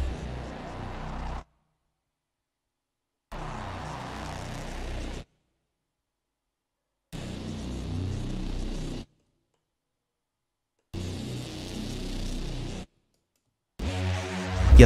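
A dark synth bass patch from the ANA 2 synthesizer in FL Studio plays in four separate sustained phrases with silent gaps between them, loud and upfront.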